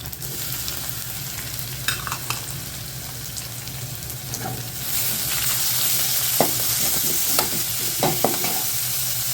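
Green chili and carrot sautéing and being stirred in a pan for kuzhi paniyaram made from idli batter, a steady close sizzle with occasional scraping stir sounds that grows slightly louder midway.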